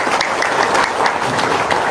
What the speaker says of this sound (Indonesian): Tepuk tangan dong Pak Kiai.